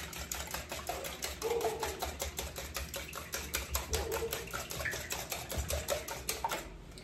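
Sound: whisking custard mixture for croissant French toast

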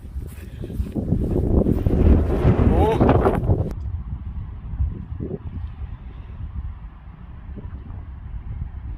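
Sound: wind on a golf course

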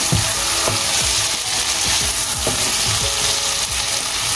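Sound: chicken frying with biryani masala, yogurt and tomato

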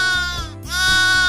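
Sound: goat bleating

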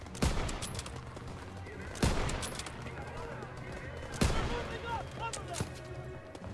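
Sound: gunfire in the video game Call of Duty WW2

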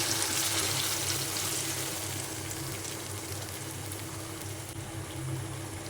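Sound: bowl of water added to mustard hilsa curry

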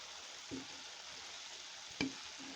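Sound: pumpkin and green chillies frying in a pan

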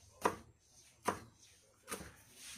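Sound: knife chopping garlic

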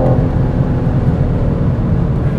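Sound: BMW M4 Competition Coupé accelerating in automatic mode

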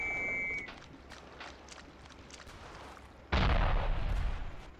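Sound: artillery barrage in the video game Ravenfield

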